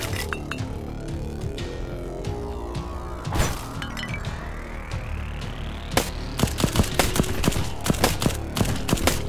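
Gunfire in the steampunk top-down sky shooter Black Skylands: scattered sharp shots with a rising whine, building into a dense run of rapid crackling shots and clinks toward the end.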